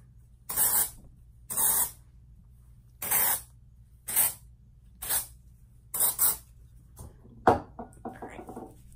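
Batiste dry shampoo is sprayed into hair roots in six short, loud hissing bursts at uneven intervals, followed by a brief clatter and rustle near the end.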